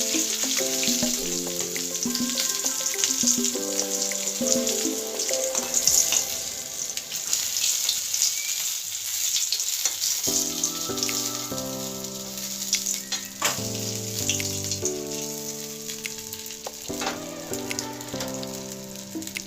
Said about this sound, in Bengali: মাছের মাথা আমাদের প্রায় ভাজা হয়েই এসছে।